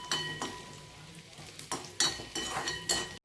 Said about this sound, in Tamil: அதனால் இந்த தேங்காயை நல்லா வதக்கிடணும்.